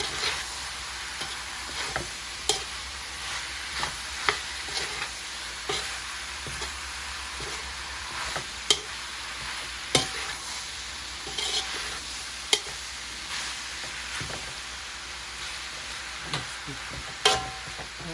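Vegetables for pancit bihon are stir-fried in a pan, with a steady sizzle broken by regular scraping and clinking of a utensil against the pan, close and clear, without talk.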